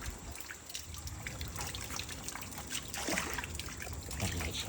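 Floodwater from continuous rain in Itahari, Nepal, trickles and drips as it seeps in, a soft, steady, close watery patter with occasional louder splashes.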